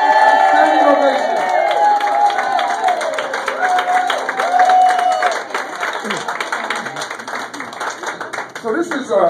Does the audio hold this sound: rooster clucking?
no